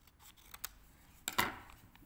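Scissors snip through a paper corset block pattern along a drawn line, producing a few faint early clicks and then one closer, louder cutting crunch in a quiet room.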